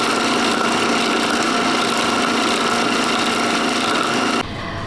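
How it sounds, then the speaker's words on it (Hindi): An electric blender grinds hair remedy ingredients with a loud, steady motor whir that runs without change and then drops suddenly as it switches off near the end. "तो ये हमने ब्लेंड कर लिया है"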